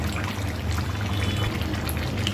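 Raw duck meat is rinsed under running water, a continuous close splashing pour with steady gurgling and no pauses.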